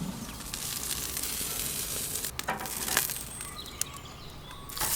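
Lamb koftas grill over a hot barbecue with a soft, steady sizzle and a few sharp crackles and pops, fairly quiet throughout.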